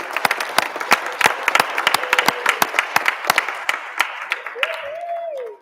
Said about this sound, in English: Come on, clap again. Let's congratulate them.